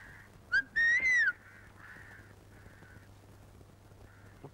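A short two-part whistle rings out clearly, rising and then falling, close and loud against a faint background hum with occasional fainter whistled notes.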